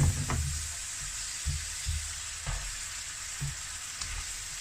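Gochugaru and kimchi mixture sizzling in a pan while being stirred, a faint steady hiss with soft irregular scraping knocks from the mixing, no talk.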